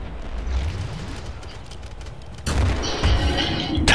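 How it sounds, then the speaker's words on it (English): Fire grenades go off in the co-op shooter Killing Floor with a sudden loud burst halfway through, followed by roaring, crackling flames and further booms over continuous game noise. "Fire grenades."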